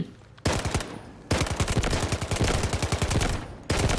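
An MK47 rifle fires in the shooter game Delta Force. Loud, close automatic bursts rattle off rapidly, with brief pauses between them.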